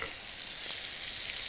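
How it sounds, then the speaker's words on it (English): Pancetta-wrapped monkfish sizzles gently in a pan over low heat, a steady close crackling hiss of frying that grows slightly louder as it settles. "You feel it go in. It's sizzling,"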